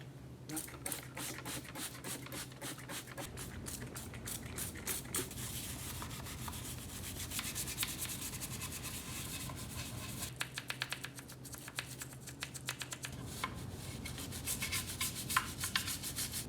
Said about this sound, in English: I can go on scrubbing this thing for hours